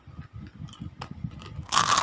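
Dried okra crunches between the teeth in a few soft, close bites, a steady chewing rhythm that ends in a louder, brittle snap, with no talking.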